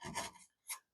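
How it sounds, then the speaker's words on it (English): Hand sawing wood: a couple of short rasping strokes, close and dry, the first longer and louder, then a brief pause before a quick second pass. "Okay, a little bit of sawing."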